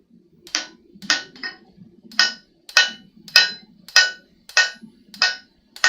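Forged steel knife blank for a san mai deba is hammered to even up the spine: about ten sharp, ringing hammer blows in a steady, moderately paced rhythm, close and fairly loud, with a low rumble underneath between strikes.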